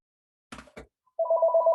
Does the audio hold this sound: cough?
no